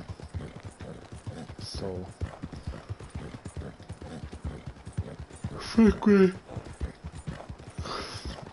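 Horse hooves clip-clop steadily while riding in Red Dead Redemption 2, a rhythmic trot heard under intermittent talk, with a brief whinny-like burst partway through.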